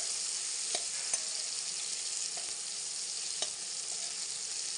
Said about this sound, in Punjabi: ਸੌਫਟ ਹੁੰਦੇ ਤੱਕ ਆਪਾਂ ਟਮਾਟਰਾਂ ਨੂੰ ਪਕਾ ਲੈਣੇ